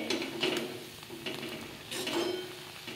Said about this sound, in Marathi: आपल्या भाजीला चांगली उकळी आली आता.